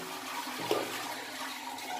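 A toilet cistern that is overflowing through its handle is emptied by flushing, giving a steady rush of draining water with a brief louder gush near the start, close by and without talk.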